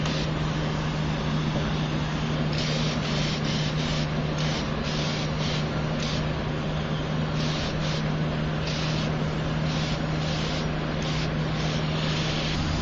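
An aerosol spray can hisses in repeated short bursts over a steady background hum, laying a light second coat onto female cosplay armor, nearby and fairly quiet.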